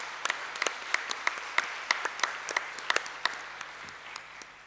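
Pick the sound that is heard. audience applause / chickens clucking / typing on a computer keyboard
audience applause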